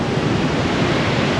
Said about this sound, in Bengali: আর যে আওয়াজ দেখো, কি আওয়াজ এখানে, জলের যে আওয়াজ শুনলেই ভয় লাগে